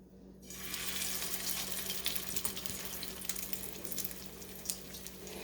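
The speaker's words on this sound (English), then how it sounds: "And drop them in hot oil." Salmon patties sizzle in hot oil in a pan, a continuous close, dense hiss and crackle that holds steady throughout, with a few brighter pops.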